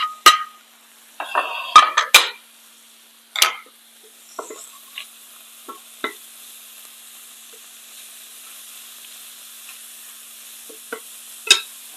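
Tofu frying in a pan and pushed around with a utensil, a low steady sizzle punctuated by several sharp scrapes and clacks, clustered early and then sparse, close and without speech.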